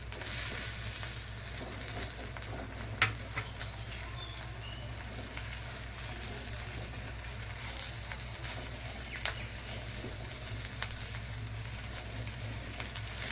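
Masala frying in a pan as finely chopped tomato goes in for a Konkani-style kala chana usal, a low steady sizzle with a low hum beneath and an occasional soft clink of a utensil.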